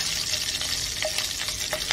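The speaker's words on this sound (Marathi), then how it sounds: "फोडणीमध्ये कढीपत्ता आणि लसूण चांगला परतून घेऊया" Curry leaves and garlic frying in hot tempering oil for Maharashtrian dahi kadhi give a steady, close sizzle and crackle, with a few brief sharper pops and stirring noises and no talking.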